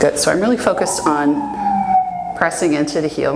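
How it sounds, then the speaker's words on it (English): An emergency vehicle siren passing outside wails as a long falling tone, heard faintly in the background under a close, steady instructor's voice during a Pilates reformer workout. "Sorry about the siren."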